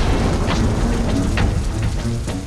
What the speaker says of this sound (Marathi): पाऊस डोळ्यांनी पण दिसतो.